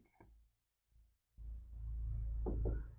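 Pen or chalk writing out electromagnetic induction equations during a physics lesson on alternating current, heard as close scratchy strokes in short bursts, with a denser run of writing in the second half.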